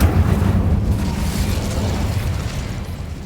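An Incendio fire spell cast in the Hogwarts Legacy video game produces a steady, roaring whoosh of flame with a heavy low-end rumble, sustained and loud for about three seconds, fading slightly toward the end with no talking.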